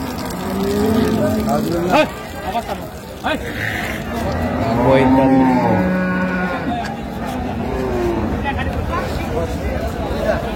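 Cows moo loudly several times, long low calls rising over a busy crowd with people talking throughout at a cattle market.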